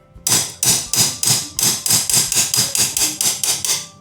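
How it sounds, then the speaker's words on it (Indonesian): Repeated hammer blows on a wrench fitted to a stuck O2 sensor on a Honda Jupiter Z1 motorcycle: about fifteen sharp metallic strikes in a steady, fairly quick rhythm, close and loud, with no talking. "Lebih mudah kalau dipukul menggunakan palu. Ini dia, admin pukul kuncinya itu."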